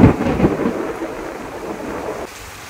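During a thunderstorm with lightning, a loud rumble of thunder opens and slowly fades under steady falling rain in a rural garden.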